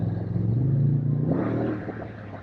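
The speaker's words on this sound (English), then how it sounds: "The exhaust is good." Toyota Tacoma TRD Pro exhaust rumbling at close range, a steady low drone that rises into a brief rev before easing off, with no talk over it.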